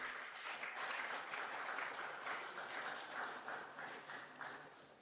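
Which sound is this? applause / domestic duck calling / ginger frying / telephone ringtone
applause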